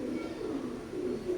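Oman blood line teddy pigeons, a male and female pair, coo in a low, steady rolling murmur that carries on without pause at close range.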